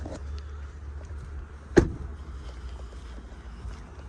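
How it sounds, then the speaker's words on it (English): In a 2020 Ford F-150 Limited, a rear seat drops down after its lever is pulled, giving a single sharp thud in the middle of a quiet cabin. "Then you pull this lever, and then the seat goes back down."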